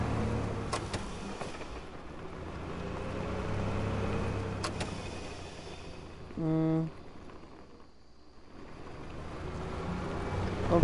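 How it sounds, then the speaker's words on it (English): A car drives up outdoors, its broadband engine and tyre rumble swelling and fading over several seconds, with a brief tonal horn-like burst midway and faint voices in the background. "I hear a car."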